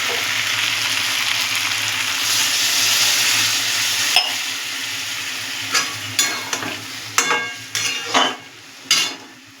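Masala with potatoes and chickpeas sizzling in a pan on a gas stove, a loud steady fry, then water poured in, followed by a series of sharp scraping stirs near the end.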